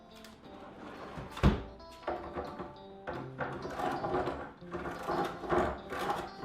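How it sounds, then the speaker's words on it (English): A hand plane and a sander work an epoxy drip on the edge of a white marble-look epoxy countertop, giving uneven scraping strokes, rough rasping and a few hollow knocks close by. "we'll use a hand plane and sander to get rid of that drip down there"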